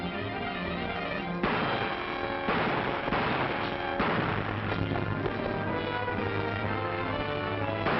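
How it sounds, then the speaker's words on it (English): Rapid bursts of gunfire crack over a dense, loud background of music and action in a 1944 crime film, sharp reports clustering in several volleys. "Gunshots!"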